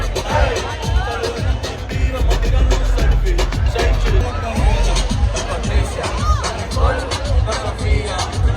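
A crowd at a World Cup fest cheering and whooping, dense continuous roar of many voices with scattered shouts and occasional bangs, close and loud, with chatter mixed in.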